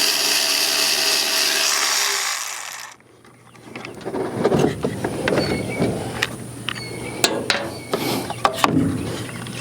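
A whirring power tool runs for a few seconds, then clicks, rattles and metallic clinks follow as 5/16 bolts come off a Snapper push mower with a Briggs and Stratton engine.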